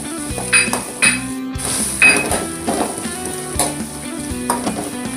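Onions fry with curry leaves, ginger and turmeric in a pan, a loud close sizzle broken by repeated clinks and scrapes of a spoon stirring against the metal.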